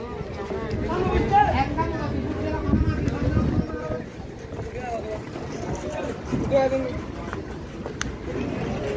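A boat crossing the open sea near Maheshkhali island off Cox's Bazar, its engine and water wash rumbling continuously, with wind buffeting the microphone and people talking throughout.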